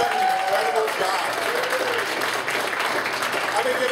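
Applause from a market training audience for its leaders and volunteers, a steady dense wash of clapping lasting throughout, with some voices and cheers mixed in beneath it.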